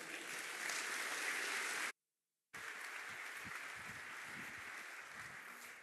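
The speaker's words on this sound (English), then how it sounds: "if you give him a big round of applause, I can use that in my performance review" An audience at a developer summit applauds as the next speaker comes up, steady distant clapping filling the room with a brief dropout partway through.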